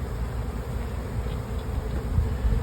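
Honeybees buzz steadily inside a hive box while a colony is being split into nucs, a close, continuous low drone with no voices.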